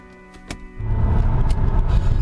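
Car engine settling into a steady low rumble near 2,000 RPM after an upshift into fifth gear, rising from a quieter idle-like hum with a brief click before holding a constant, close drone.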